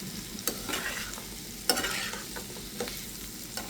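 River prawns being stirred in a pan with onion and garlic, a soft sizzle under irregular scraping and clinking strokes of the spoon, close and moderately quiet, with no one talking.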